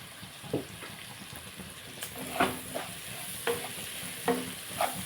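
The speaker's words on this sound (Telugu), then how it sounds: "బాగా వేగిస్తున్నాయి కదండి" A curry of dried prawns and sesame flour fries in a pan, a steady sizzle broken by repeated scraping stirs at an uneven rhythm. The sounds are close, with no talk.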